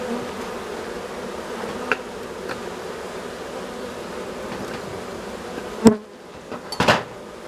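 A steady, dense hum of many honeybees buzzing close by at an opened hive as bees are shaken off the combs, with a few sharp knocks and a scraping thud near the end.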